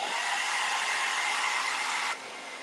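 A hair dryer blowing steadily to dry paint on a wooden door hanger, a loud continuous close whoosh that drops slightly in level near the end.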